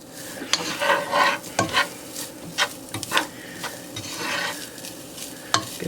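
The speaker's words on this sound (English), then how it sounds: "I'm going to add 2/3 of a cup of onion, which we are going to saute." Chopped onion sautéing in a pan with drained, browned ground meat for lasagna, with irregular stirring scrapes and a soft sizzle, close and moderately quiet, with no talk.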